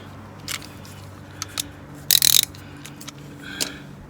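A 3/8 inch socket set working on the cambelt pulley bolts of a Hyundai Santa Fe, giving a few short metallic ratcheting bursts and clicks spread across the moment, one louder burst near the middle.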